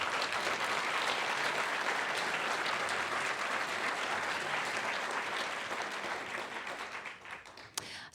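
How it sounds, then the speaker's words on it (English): Audience applause for a lineup of sixteen mayoral candidates at an evening event, a dense, sustained wash of many hands clapping that stays loud for several seconds before thinning out toward the end. "Let's give the candidates a big round of applause"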